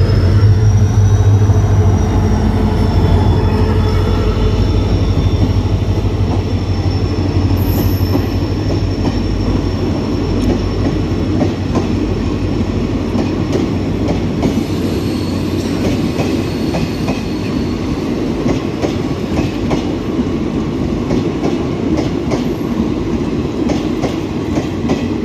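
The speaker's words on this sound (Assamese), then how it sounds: "passenger train" A passenger train running from Bongaigaon to Guwahati rolls past close by, a loud, steady rumble with rhythmic wheel clatter and occasional high squeals across the whole stretch, no voices.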